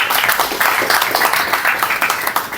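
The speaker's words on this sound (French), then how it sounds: "Et on peut l'applaudir." A roomful of people applauds at an evening event on neighbourhood success strategies, loud dense clapping close by, lasting a few seconds without letting up.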